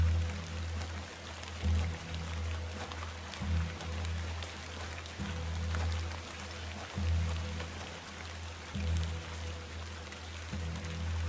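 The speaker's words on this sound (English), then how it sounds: "Let's get out of the rain." Steady rainfall from the video game The Excavation of Hob's Barrow, a soft, even hiss under a low rumbling ambience that swells and fades every second or so, with no voices.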